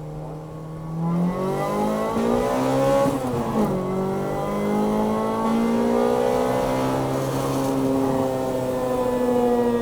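A Toyota Corolla XRS with a manual transmission revs up through the gears, pitch climbing, dropping at a shift, then rising again in a loud, sustained acceleration heard from inside.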